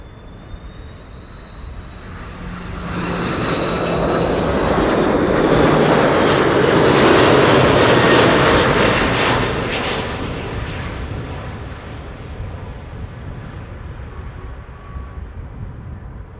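A jet airliner inbound from Bonaire at Amsterdam Schiphol swells from a distant whine into a loud, broad roar passing close overhead, then fades back into steady background rumble, with no talking.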